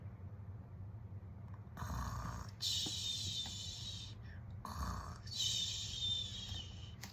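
A voice imitates snoring: two drawn-out, rasping snores with a pause between them, set over a low steady hum.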